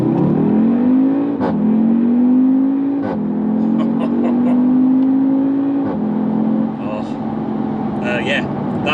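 A 2016 Audi TTS with S-tronic gearbox accelerating hard, the engine note climbing steadily and dropping briefly at several quick upshifts, loud and close from inside the car.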